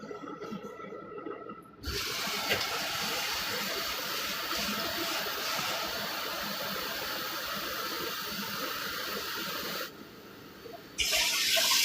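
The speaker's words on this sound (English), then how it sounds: "So let's fill this up with some water." Tap water runs steadily into a cooking pot for about eight seconds in a kitchen, a continuous close rushing flow that starts and stops abruptly, with no talking during the pour.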